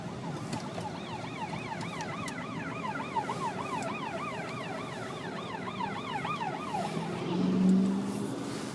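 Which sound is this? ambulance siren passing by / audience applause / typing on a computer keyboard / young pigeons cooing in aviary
ambulance siren passing by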